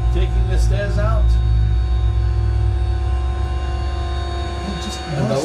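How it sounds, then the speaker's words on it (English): Steady loud engine and motor drone as boarding stairs are pulled away from a Ryanair airliner after landing, a continuous hum with tonal whine, with people talking over it. "Can you hear the engines, the motors, yeah, taking the stairs out?"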